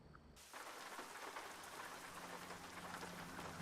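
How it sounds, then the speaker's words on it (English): Rain falls steadily in an American Truck Simulator drive, starting abruptly after a brief moment of quiet and then continuing as an even, hissing downpour at low level. "See, it's raining."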